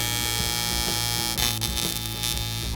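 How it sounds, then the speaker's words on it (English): A Dynasty TIG welder runs steadily on sheet metal for a 1976 AMC Pacer, giving a continuous close electric buzz with a hum that shifts slightly partway through. "Get this thing welded."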